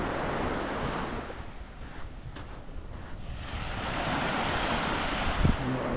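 Waves wash onto a clean sea beach at Tottori's Hawai coastal park in Japan, a continuous surf roar with gusty wind noise buffeting the microphone, and no voices.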